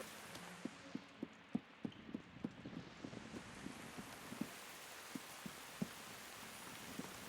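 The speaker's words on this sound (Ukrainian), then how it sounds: "В деяких ділянках житла звук дощу такий же, як на вулиці." Rain in the Tales of the Shire video game, a steady hiss with faint irregular soft taps spread throughout, heard alone and fairly quiet.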